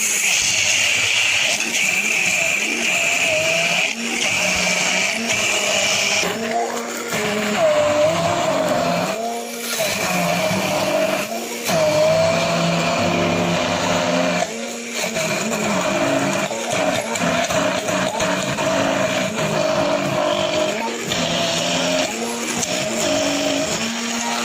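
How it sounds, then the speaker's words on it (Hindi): An electric grinder churns soaked rice with water for mango kheer, running as a loud, steady, whirring motor drone for the whole stretch, with a few brief dips and restarts. "अब हम अपने चावलों को ग्राइंड करते हैं।"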